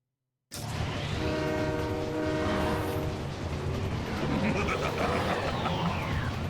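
A train in the Spiderman (2001) PC video game rumbles steadily with a sustained horn blast partway through, loud and continuous throughout.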